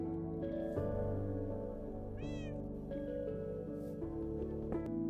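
Minecraft cat meowing in a short rising-falling cry, heard once, over steady game music and ambient tones.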